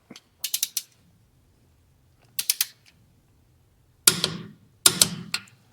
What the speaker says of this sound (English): we can go ahead and switch on over to our torque wrench